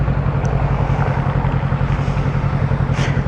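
An old motorcycle being ridden home, its engine giving a loud, steady, low drone under constant rushing noise, with no voice over it.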